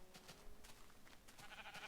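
Quiet blocky sheep in the video game Minecraft bleat a few times in short bursts, faint and in the background among soft game sounds.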